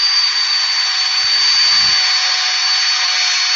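A spalted oak platter is sanded on a wood lathe using a drill, producing a constant close whooshing, hissing whir with a brief low rumble partway through.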